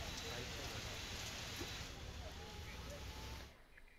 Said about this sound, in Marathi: पुण्यामध्ये मुसळधार पाऊस झाला, अवकाळी पावसाच्या सरी बरसल्या।